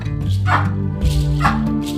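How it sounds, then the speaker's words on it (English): Baboon barking in the African wild, a few sharp, rough barks close by in quick succession, loud and alone. "have you ever heard a baboon before?"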